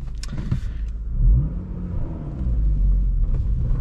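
A manual-transmission car pulls away in first gear with a deep engine rumble that swells as it accelerates, heard from inside the cabin along with a few light knocks and clicks.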